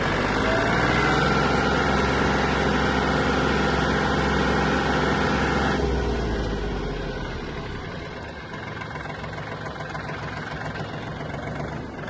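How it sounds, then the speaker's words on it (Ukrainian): A Kubota L1-185 Japanese mini tractor engine roars steadily at high revs while accelerating, then eases off and settles into a lower, quieter drone partway through. "Газ в пол. Трактор впевнено набирає швидкість."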